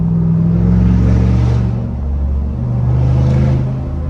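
A 6.2 Silverado fitted with a cat-back straight-pipe exhaust revs loudly and close by. Its deep, throbbing rumble swells, eases off, then rises again.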